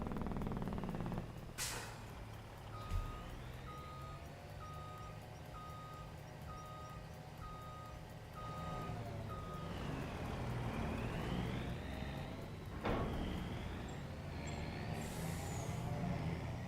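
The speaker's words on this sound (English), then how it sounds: "Love this truck." A truck in Farming Simulator 25 backs up with a steady run of evenly spaced reversing beeps, then air brakes hiss out in sharp bursts over a continuous engine rumble, all close and fairly loud.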